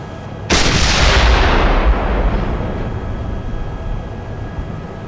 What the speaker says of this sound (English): It's BMP shooting at me.